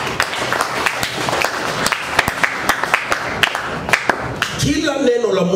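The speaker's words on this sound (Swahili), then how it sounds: "Mbele makofi yote." A church congregation claps during a prayer service, a steady run of loud sharp claps under a preacher's amplified voice, with crowd noise filling the room.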